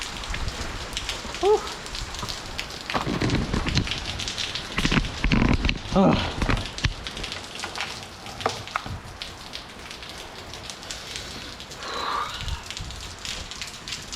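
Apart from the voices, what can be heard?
rain falling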